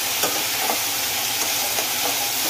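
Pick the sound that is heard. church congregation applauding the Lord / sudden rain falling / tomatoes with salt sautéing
tomatoes with salt sautéing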